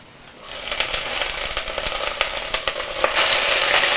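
After a brief quieter sizzle, Swiss chard hits a pan of sautéing garlic scapes and red pepper flakes, and the frying swells into a loud, crackling hiss with scattered sharp pops.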